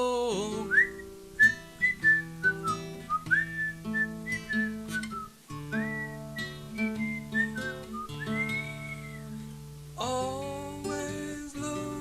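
A person whistles a melody at a home open mic, clear and close, with bouncy phrased notes, slides and short pauses over a steady background accompaniment.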